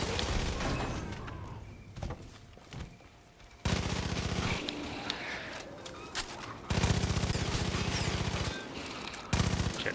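Gunfire rattles through a co-op Far Cry 5 firefight: bursts of rapid automatic rifle shots from an AR, loud and close, broken by short pauses and sharper impacts.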